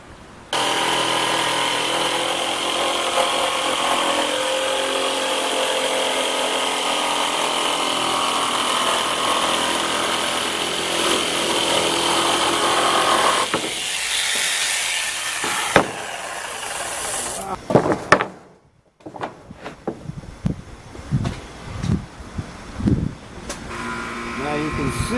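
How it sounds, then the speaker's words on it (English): A wood router cuts kiteboard former material for a rocker and concave mold, giving a steady, loud whine for about half the run, then stopping for uneven clunks and scraping handling noises. "the router still has enough material to make a nice clean cut"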